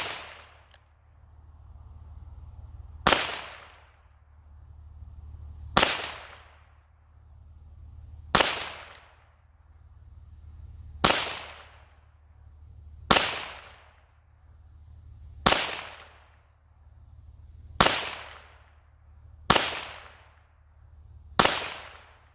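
A .22 revolver fires CCI Clean subsonic rounds at a 15-yard target: about nine sharp, fairly loud cracks at an even pace, each about two and a half seconds apart and trailing off in a short decay over a low steady background hum.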